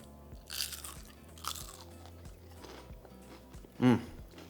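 A sharp, crisp crunch as an onion ring that has sat for about 10 minutes is bitten into, followed by quieter chewing, close up with faint background noise.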